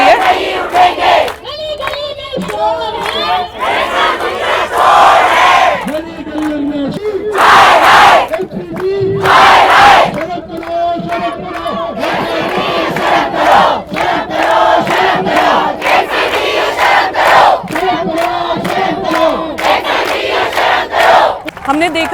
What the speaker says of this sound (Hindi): ये जो नारों की आवाज़ आ रही है